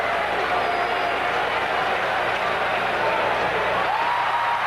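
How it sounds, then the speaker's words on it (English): A baseball stadium crowd at the 1981 World Series, Yankees at Dodgers, gives off a loud, continuous roar, a broad sustained wash of massed voices with no break, heard from within the stands. "Crowd roaring with each delivery now."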